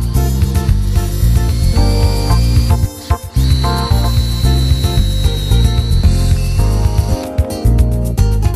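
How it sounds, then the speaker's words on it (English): A power drill whines and grinds loudly pre-drilling the edges of column wrap panels laid flat, stopping briefly and restarting several times, close up with no talking. "Lay the panels flat and pre-drill the edges."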